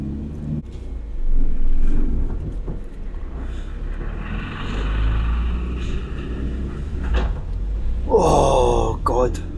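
A big lorry passes on a narrow road near Achmelvich in the Scottish Highlands, a deep engine rumble that swells close by and then lingers as a low drone.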